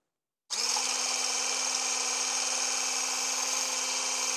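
Electric stick blender switching on abruptly and whirring steadily at higher speed while frothing fat-free milk, a constant close buzzing hum with a bright whine and no talking.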